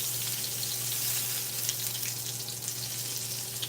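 Sausages fry in a pan with a steady bright sizzle and scattered spitting pops, close and continuous over a low kitchen hum, no voices.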